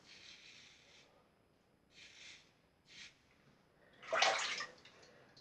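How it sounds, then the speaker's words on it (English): A safety razor scraping across lathered stubble in short bursts, several soft rasping strokes followed by one louder, longer pass, close and with no talk. "It sings a bit, this razor."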